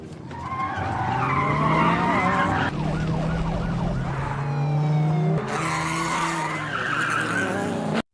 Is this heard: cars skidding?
yes